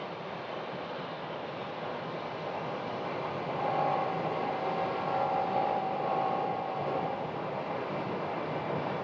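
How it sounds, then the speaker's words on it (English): Airliners depart Phoenix Sky Harbor airport, their jet roar a steady distant broadband rush that grows a little louder midway, with a faint whining tone, under no talk. "Now that those aircraft are going"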